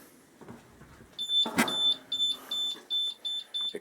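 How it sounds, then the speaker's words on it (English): Sharp electronic beeps sound in a steady, repeating pattern from a Honda ST1100A motorcycle's alarm, fairly close and fairly loud, after a brief clatter. "Excuse the alarm, it absolutely drives me nuts"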